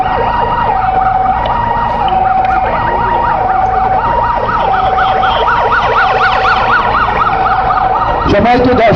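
A wailing ambulance siren at Osmani International Airport in Sylhet, after a plane skidded off the runway and caught fire, sweeps up and down in a steady repeating cycle, loud and close, over a continuous rumble of engine and traffic.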